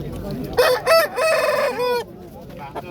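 Rooster at a poultry market in Yazyavon, Fergana region, crowing loudly and close by in one long drawn-out call with a few clucking bursts before it, set against faint market background noise.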